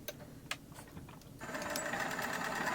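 A sewing machine stitches the seam of a throw pillow, starting after a couple of soft clicks and settling into a fast, steady mechanical whir, close and fairly quiet.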